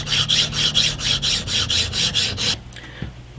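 Scissor blade being sharpened on a 1000 grit stone: about nine rhythmic back-and-forth scraping strokes, close and steady, then a stop with a few faint clicks and no talking.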